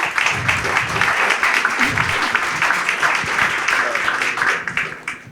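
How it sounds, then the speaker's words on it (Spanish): Loud, sustained audience applause at a presentation, dense clapping that stays full and even before tapering slightly at the end, with faint voices underneath. "Fuertes palmas, por favor, para ella."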